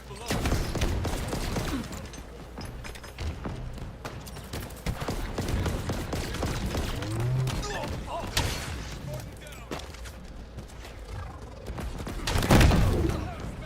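Rocket explosions and gunfire in a Halo multiplayer match, a busy stream of thumps, booms and bursts with a heavier blast near the end, under game noise and occasional talk.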